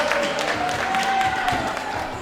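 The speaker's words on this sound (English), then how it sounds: "That's worth a little applause." Spectators at a junior bouldering competition clap for a climber, a brief burst of scattered applause mixed with crowd murmur and faint voices.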